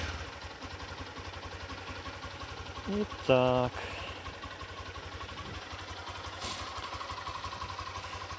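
A Lifan KPR200 motorcycle engine putters at a steady, rhythmic idle, with a short burst of a higher tone and a brief spoken word partway through.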